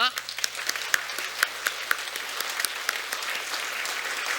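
An audience at a church launch ceremony for a new-life festival claps in a steady burst of many hands, moderately loud, with individual sharp claps over a low background hum and some voices.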